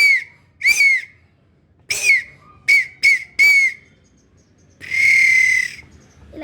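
A conch shell blown as a whistle: six short sharp whistles in an uneven series, then one longer steady whistle after a pause, close and clear with no talking.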